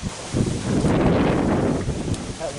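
Gusty wind blowing outdoors by a trailer on a blustery day, rushing and buffeting the microphone in a loud, swelling surge.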